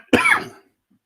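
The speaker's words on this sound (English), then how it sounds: "some reason I've got an annoying cough today." A single short, sharp cough with a throaty rasp, close and fairly loud, fading quickly into silence.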